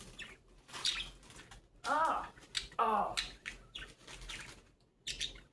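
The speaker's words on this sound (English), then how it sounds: "Do you hear the birds? They like to hang out." Birds chirp nearby in a few short, bright bursts that stand out against a quiet background, with small clicks and rustles between the calls.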